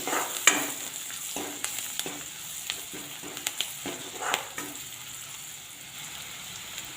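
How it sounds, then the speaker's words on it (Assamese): Onions with chilli and turmeric frying in a pan, a steady close sizzle broken by irregular scraping stir strokes throughout, no voices. "এয়া চাওক পিঁয়াজখিনি ধুনীয়াকৈ অকণমান ভজা হৈ গ'ল"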